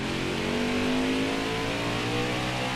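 A NASCAR Heat 5 racing truck engine roars loudly and continuously at Road America, its pitch shifting as it comes down through the gears.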